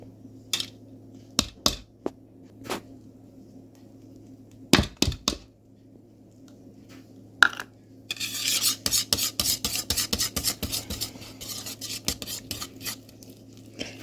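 Flour batter being whisked in a bowl: a few isolated clinks and taps, then a steady run of rapid, close scraping strokes of the whisk against the bowl, with no talk.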